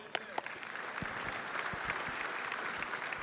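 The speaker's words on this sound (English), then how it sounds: "Let's give Lance some applause." A conference audience at the National Sheriffs' Association annual meeting claps for Lance, a recently retired highway patrol officer, producing faint, distant, steady applause over three seconds with a voice audible underneath.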